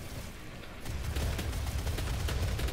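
Rapid gunfire from a weapon in classic Doom, a quiet stream of repeated shots that picks up and thickens after the first second, with no talk.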